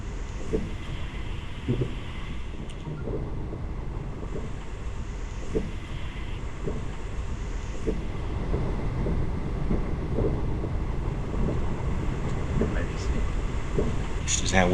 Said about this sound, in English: so there's only 3 carriages this train.